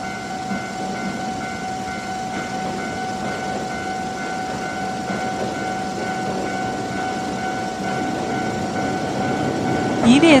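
A train from Iwakuraji bound for Dentetsu-Toyama passes near Minami-Toyama station, with a steady, fairly loud rumble and rail noise sustained throughout and a brief sharper squeal at the very end.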